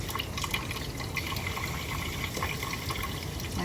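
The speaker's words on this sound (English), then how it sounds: "turn the water off there" A kitchen or bathroom tap runs steadily while a denture cup lid is rinsed under it, a continuous close hiss of falling water with faint drips and no talking.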